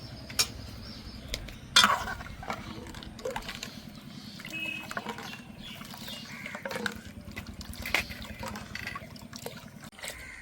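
A spoon stirs a watermelon pudding mixture in a bowl, giving soft liquid swishes and light clinks against the sides, faint and close, with a few sharper knocks along the way.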